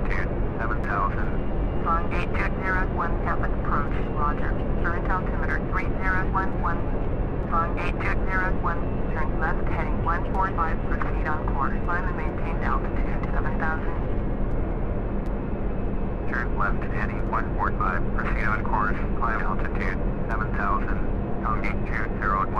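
Boeing 767-300 engines at climb thrust, heard from the cockpit on a flight out of Tampa: a loud, constant, broadband roar that stays steady throughout, with pilots and radio voices talking over it.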